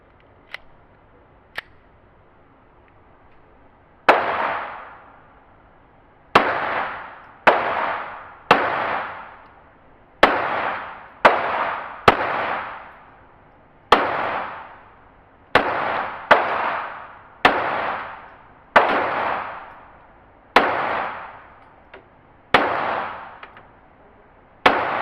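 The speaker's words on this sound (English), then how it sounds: "My first 30 shots to the new Beretta 92xi, or 9211, whatever you want to call it." Roughly fifteen sharp gunshots from a Beretta 92xi pistol, fired singly at an uneven pace with short gaps, each crack loud and close with a brief ringing tail, and no talking between shots.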